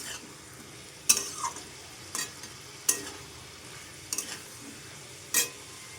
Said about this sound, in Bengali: এবার ভালো করে সব কিছু একসাথে মিশিয়ে নেব